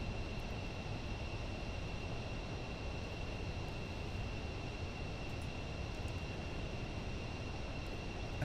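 A business jet's engines in Microsoft Flight Simulator 2024 produce a steady, even roar with a faint high whine, unbroken from start to finish with no talk.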